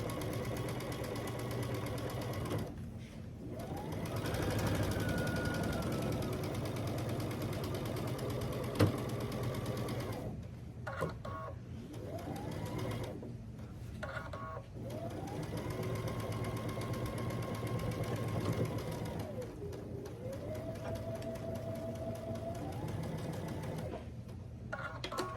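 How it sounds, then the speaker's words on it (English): A sewing machine stitches a long quilt seam at a quarter inch, a steady mechanical whir that runs in long stretches broken by short pauses and a rising-and-falling motor pitch, fairly quiet and close, with no talking. "Now I'm just going to sew down this long line like we did a minute ago"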